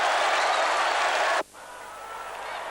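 A 1990-91 English Football League crowd applauds a goal, a loud, dense roar of clapping and cheering that cuts off abruptly partway through, leaving a quieter ambient murmur.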